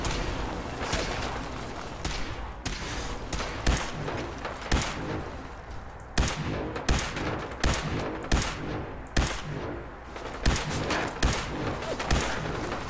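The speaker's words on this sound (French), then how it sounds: "je me fais déjà canarder, t'es sérieux?" Gunfire in the video game Fallout 4: repeated sharp shots, some in quick bursts, recurring through the whole stretch at close range with no talking.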